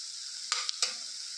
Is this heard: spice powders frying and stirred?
yes